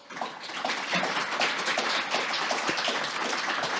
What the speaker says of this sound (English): thanks to our panelists once more. A round of applause